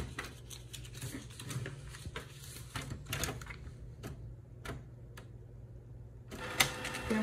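Small printer running while printing orders in a home packing workspace, a steady low mechanical whir with rapid clicking and tapping bursts, fairly quiet and alone with no talk.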